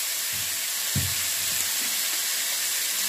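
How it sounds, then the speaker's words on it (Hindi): Green peas, chilli and grated ginger sizzling in hot oil in a pan for a peas-and-poha breakfast, giving a constant fizzing sizzle with a few soft low knocks as they drop in and are stirred. "जो ये मटर मैंने ली है वो भी इसके अंदर डाल देंगे।"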